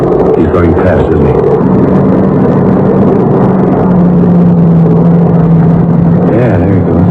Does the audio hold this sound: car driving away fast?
yes